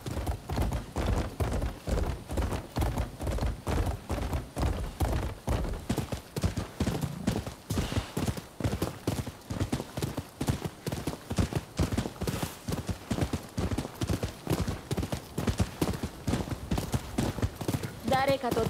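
A ridden horse trots steadily in Rise of the Ronin, with close, rhythmic clip-clopping hooves running continuously under intermittent spoken dialogue.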